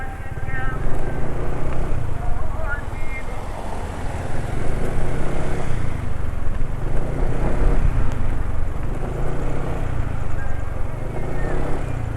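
A motorcycle engine running on Ecco SAE 40 oil idles roughly with a steady, coarse, uneven thrum, close and continuous, while someone talks over it.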